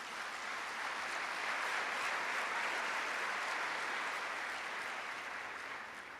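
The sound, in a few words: church congregation applauding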